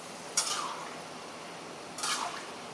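Two brief scraping stirs of a large batch of peanuts frying in a pan, a spatula rasping against the metal with a soft sizzle underneath, set apart by a quiet pause.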